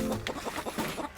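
A rooster inside a backyard chicken coop gives a quick series of soft, close clucks, a short rhythmic run of low calls with no talking.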